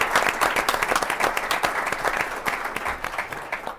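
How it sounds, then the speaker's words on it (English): A full audience round of applause at the City Club for a panel on concussions in sport, dense and loud clapping sustained throughout. "Can we get a round of applause, please?"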